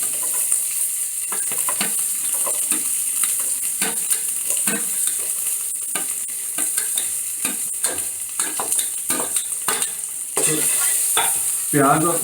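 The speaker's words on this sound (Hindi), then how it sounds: "सबसे पहले इसमें प्याज और गाजर दोनों एक साथ डालने वाला हूँ।" Onion and carrot sizzle steadily in a hot pan while a utensil stirs them with repeated scraping strokes, close and fairly loud, with no talking.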